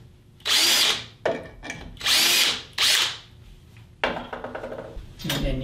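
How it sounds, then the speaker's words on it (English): A power drill whines in several short bursts while pre-drilling screw holes, each spinning up and stopping, with clattering handling noises between and a final brief burst at the end. "and then I usually pre-drill the holes"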